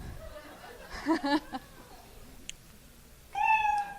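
A cat meow sound effect rings out once near the end, short and fairly clear, after a stretch of audience laughter and murmuring at a live comedy show.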